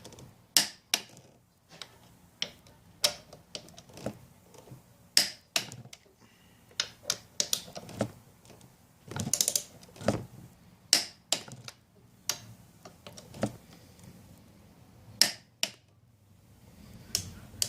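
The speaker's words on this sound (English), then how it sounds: "So I'm going to torque down the front pinch bolts for the handlebars first" Sharp, irregular metallic clicks from a torque wrench tightening the front handlebar pinch bolts on a Yamaha FJ-09 motorcycle, each one close and crisp against a quiet background.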